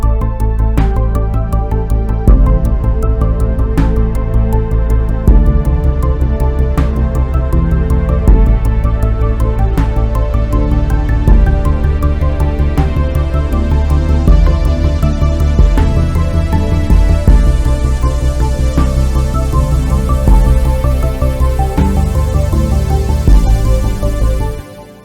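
Layered Fugue Machine sequencer parts play together with a short pulsy square-wave synth bass, a dense steady electronic pattern with regular rhythmic accents, loud and continuous, no talking.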